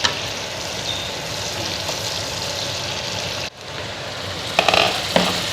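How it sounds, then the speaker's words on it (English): Ginger and garlic with green chili fry in butter in a pan, making a loud, continuous sizzle that briefly dips midway, followed by a few light clinks near the end. "butter fragrance with the ginger garlic. So let it cook for a few moments."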